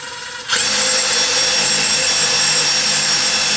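A power drill with a 7/8 inch high-speed carbide bit starts up abruptly and whines steadily as it bores into a plastic pull station, loud and close with no talking.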